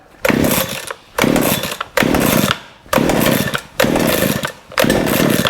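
A Baumr-Ag GCS6200 chainsaw engine, not run in a while, revs loudly in five sustained bursts of roughly a second each, separated by brief drops toward idle; close and unaccompanied by speech.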